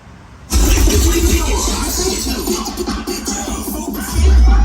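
A four-door Toyota Revo pickup fitted with a large aftermarket exhaust fires up with a sudden loud burst. Its engine then settles into a deep, throbbing idle before a final heavier rev swells near the end.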